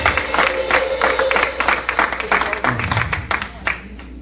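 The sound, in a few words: congregation applauding at a church service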